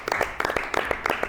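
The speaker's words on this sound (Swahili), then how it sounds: "Wow, tupige makofi." Audience members at a church gathering clap in a loose, uneven patter, individual claps distinguishable and fairly close, with a little murmuring and voices mixed underneath.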